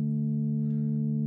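Novation Peak synthesizer pad with its filter turned down, a steady, dark sustained drone of layered low harmonics holding evenly throughout, soft and muffled with little bright content, no voices.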